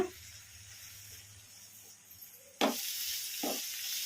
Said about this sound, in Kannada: ಮುಲ್ಲಂಗಿನ ಒಂದೆರಡು ನಿಮಿಷ ಈ ಥರ ಕಲಸ್ಕೊಂತ ಫ್ರೈ ಮಾಡ್ಕೊಂಡ್ಬಿಡೋಣ